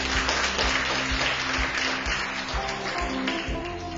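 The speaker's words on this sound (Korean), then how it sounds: "큰 박수 부탁드립니다." An audience at the opening ceremony of a Chungbuk civic college course in local content creation claps together in steady applause, with a faint tonal background underneath.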